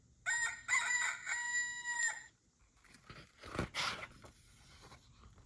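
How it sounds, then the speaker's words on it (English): A rooster on a farm crows once, loud and close, in a long harmonic call of nearly two seconds, followed by quieter rustling and scattered farmyard noises. "Rooster."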